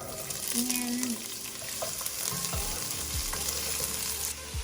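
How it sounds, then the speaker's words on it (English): Carrot, celery and onions sautéing in olive oil for a vegetable soup with farro, a close, steady loud sizzle with spoon stirring scrapes throughout. "now we've added the carrot and celery. Give that a good mix."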